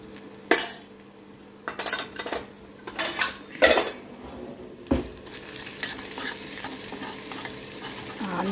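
Ginger garlic paste and onions fry in a pan with a steady sizzle, while a metal spoon clatters and scrapes loudly in repeated stirring strokes, close by.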